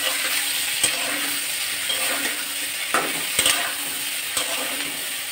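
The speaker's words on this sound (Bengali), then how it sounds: "এই আলু ভাজার মধ্যে পেঁয়াজ মশলা সব কষানো হয়ে যাবে।" Potatoes frying in a pan with onion and spices such as turmeric and coriander powder while being stirred, giving a steady close sizzle broken by a few sharp scraping clacks of a spatula against the pan.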